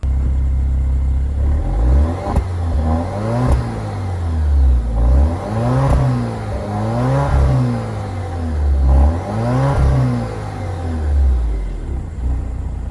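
A 2024 Alfa Romeo Stelvio Ti engine revs close up in a series of rising and falling swells, each climbing in pitch and then dropping back toward idle, loud and rumbling with no talk.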